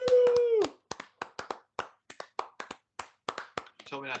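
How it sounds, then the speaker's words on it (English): Scattered hand claps ring out one by one in an uneven rhythm after a brief vocal whoop, ending in a short burst of quick claps, close and fairly loud. "You told me not to clap earlier."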